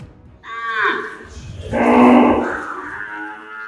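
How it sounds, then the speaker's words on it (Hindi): Cows at a cow shelter low in long, deep moos, one after another, fairly close and loud, with a second fuller bellow overlapping the first. "जब एक साथ कई गौमाताओं के रंभाने की आवाज कानों में पड़ती है"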